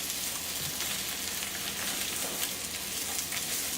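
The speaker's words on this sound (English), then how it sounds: "we will cook our mushrooms till they're tender" Mushrooms cook in olive oil with a steady, soft broadband sizzle and crackle that holds evenly throughout, with no talk over it.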